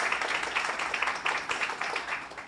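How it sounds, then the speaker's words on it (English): An audience at a launch event claps in a sustained round of applause, many hands together in a dense, fairly steady patter without talk. "Let's start with a big round of applause to the organizing team"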